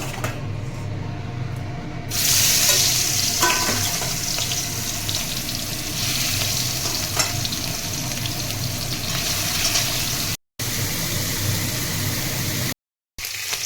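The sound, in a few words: prawns frying in a pan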